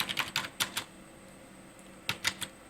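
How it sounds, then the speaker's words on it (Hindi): Keys on a computer keyboard are typed while entering a ledger in Tally Prime accounting software, a quick cluster of crisp clicks, a pause, then another short burst of taps, close and fairly quiet. "कीबोर्ड से Alt C करेंगे और यहाँ पे लिख देंगे PT कैश"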